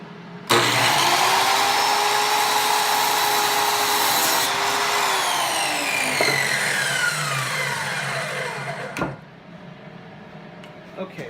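A power saw cuts through wood for the arms of a yarn swift, a loud, sustained whining buzz up close whose pitch sags as the blade bites, then spins down and stops with a clunk.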